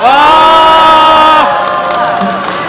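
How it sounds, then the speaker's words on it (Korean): Crowd at a citizens' candlelight rally in Incheon cheering with sustained, tonal shouts that hold steady, then slide and fade to a lower murmur partway through. "지창녕 대표님에게 큰 박수 부탁드리겠습니다"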